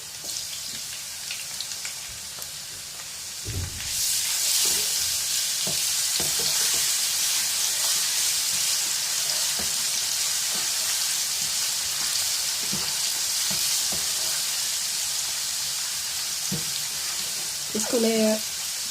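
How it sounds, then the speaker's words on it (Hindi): Ginger garlic paste fries with golden onions in a pan: a quiet start, then the sizzle jumps loud and stays steady, with occasional stirring scrapes and a brief clatter near the end. "इसको मैं 1 से 2 मिनट के लिए फ्राई करूँगी ऑनियन के साथ"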